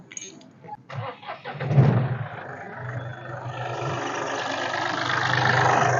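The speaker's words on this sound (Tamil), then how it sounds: "வண்டியோட இன்ஜினை பார்த்தீங்கன்னா நான் ஸ்டார்ட் பண்ணி காட்டுறேன்" A Mahindra Bolero SUV engine cranks and catches at close range, then settles into a steady, rising idle rumble with no talking over it.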